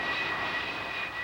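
Military jet planes launching from an aircraft carrier during the Vietnam War era: a loud, steady engine roar with a whining tone held for a brief moment, close and without voices.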